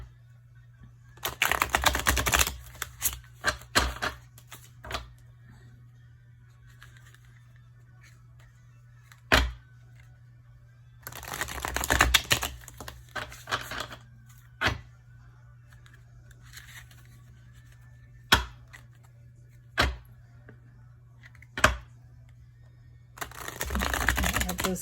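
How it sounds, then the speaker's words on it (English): A deck of tarot cards is shuffled in several short, crisp bursts of riffling with quiet pauses between, plus a few isolated taps, over a low steady hum. "shuffle this deck real quick."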